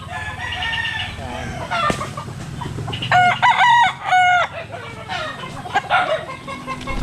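A rooster in a brood pen crows twice in quick succession, loud and close, while someone talks before and after the calls.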